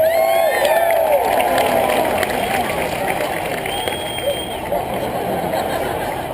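Crowd at an outdoor pig race cheering and whooping, with shrill whistle-like calls and a lively babble of voices mixed with an announcer's talk, loud and close throughout.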